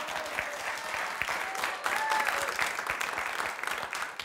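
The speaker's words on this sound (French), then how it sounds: "Tom et Mathéo, applaudissements pour nos finalistes." A studio audience at a film quiz show applauds the two finalists with sustained, even clapping that holds throughout, with faint tones and murmurs underneath.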